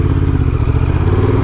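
A 2024 Honda Transalp 750 motorcycle engine with loud, close, steady induction roar and mechanical clatter, running continuously at a constant high level with no talk.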